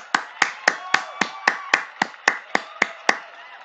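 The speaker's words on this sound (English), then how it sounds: "Clap for you." Students in an elementary English class clap together in a steady, even rhythm, about a dozen crisp, close claps at a quick regular beat, with no talking over them.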